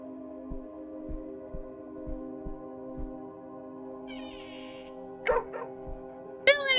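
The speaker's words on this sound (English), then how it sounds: "Stop barking." Dog in the horror video game Moth Lake, a few short yips and a whimper over soft, steady game ambience with faint rhythmic thumps.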